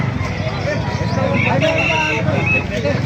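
Gamecocks cluck and a rooster crows nearby, mixed with a busy, noisy background and voices talking, in Calumpit.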